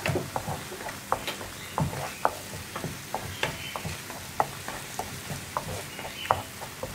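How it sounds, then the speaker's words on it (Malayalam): Tomato and onion chutney with sugar sautéing in a pan, with a soft, steady sizzle and repeated spatula scrapes and taps in an even rhythm, close by and without talk. "പഞ്ചസാരയും കൂടി ചേർത്തിട്ട് ഒന്ന് വഴറ്റിയെടുക്കുക"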